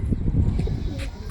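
Pigeons on a rooftop coo in a few soft, low, throaty bursts, close by against outdoor background noise, with no talking.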